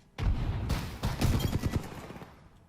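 Gunfire in Apex Legends, a sudden loud burst followed by a rapid string of close automatic shots that trail off over about two seconds.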